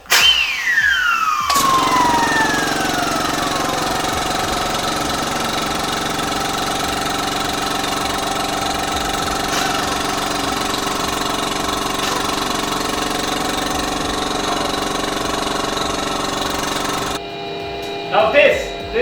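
An air compressor supplying 6.3 bar (90 psi) to a grinding air tool runs steadily and loudly for most of the stretch, with a falling whine as it spins up, then cuts off near the end.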